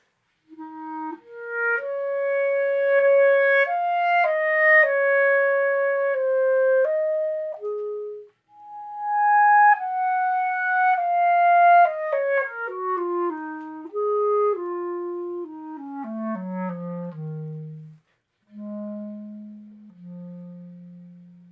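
A clarinet spins a gentle, lyrical melody with soft piano accompaniment, phrases rising and falling smoothly, then settling onto low sustained notes.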